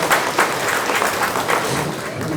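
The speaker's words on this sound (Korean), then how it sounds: "여러분 환영의 박수로 맞이해 주시기 바랍니다." Welcoming applause from a crowd gathered at a racehorse auction event, a steady, dense clatter of many hands clapping at close range, with faint murmuring beneath.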